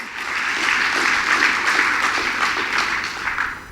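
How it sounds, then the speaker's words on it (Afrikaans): A church congregation claps together during a Sunday morning service, a dense, steady burst of hand-clapping that swells and continues evenly before tapering slightly at the end. "kom ons gee Jesus 'n hande klap vanmôre, in hierdie plek"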